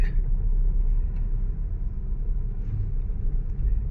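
A car drives along steadily in third gear, its low engine and road rumble holding an even, continuous drone with no talking over it.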